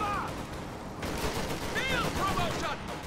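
Small arms gunfire in a real-time strategy game, with squads firing on a half-track: a few short, muffled bursts of shots running under steady commentary.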